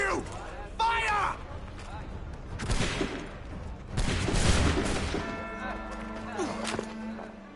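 A massed musket volley fires in Assassin's Creed III, a sharp crackling burst amid shouted orders and voices, with clattering action and further booms afterward as talk continues.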